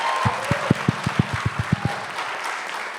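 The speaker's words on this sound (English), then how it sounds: "applaud" About ten sharp, evenly spaced claps punch through a steady background hum at a business conference, with a brief murmur of voices around them.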